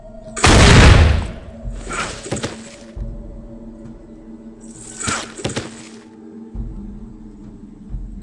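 Machine gun bursts in the old computer game Fallout 1 come in short, loud crackling volleys spaced a few seconds apart over a low steady hum, with sharp individual cracks and booms.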